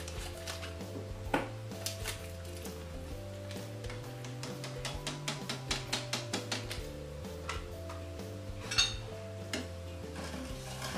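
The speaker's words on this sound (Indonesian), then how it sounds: "Setelah itu kita aduk rata terlebih dahulu sampai semua bahan-bahannya tercampur" A spoon clinks and scrapes steadily inside a pot while sugar, cocoa powder and agar-agar are stirred together for a Marie biscuit milk pudding, with a quick run of sharper taps in the middle and no talking.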